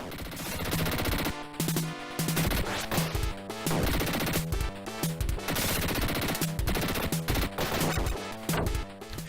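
Rapid, loud gunfire from the 1991 Dick Tracy game on the Mega Drive, with repeated shots and crashing impacts hammering over a steady beat of game music.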